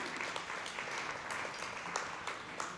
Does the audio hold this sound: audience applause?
yes